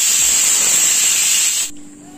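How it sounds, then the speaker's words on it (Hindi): A kitchen pressure cooker whistles loudly and continuously while breakfast cooks, a steady close steam hiss that cuts off abruptly near the end, leaving a faint low hum. "कुकर में सीटी आ रही है, नाश्ता बन रहा है मेरा"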